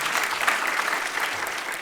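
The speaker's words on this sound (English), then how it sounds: "perhaps please give a round of applause to RP Media in the back" Conference audience applauding during a plenary session, a dense steady wash of clapping from a large crowd lasting the whole stretch.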